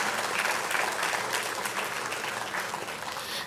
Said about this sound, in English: I request all to give a great round of applause to Srimati Chhaya Sharma for her motivational and impactful speech.